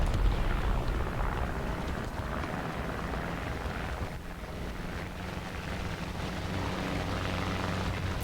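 Aircraft engines in the War Thunder video game, several planes close by: a steady broadband roar with low rumble and wind-like rush that holds fairly loud throughout, dipping briefly midway, with no talking.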